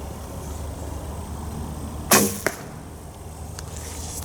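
An arrow loosed from an unusual hunting bow strikes a target at 10 yards, a sharp loud smack followed by a quick second knock, then a faint tick, amid outdoor background noise.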